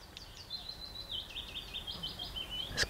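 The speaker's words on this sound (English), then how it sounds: "Don't know if you guys can hear the bird song." Dawn birdsong in a mountain setting, with cuckoos, blackbirds, pigeons and geese around: faint, continuous high chirping and warbling from birds at a distance over a soft ambient hiss, with no voices.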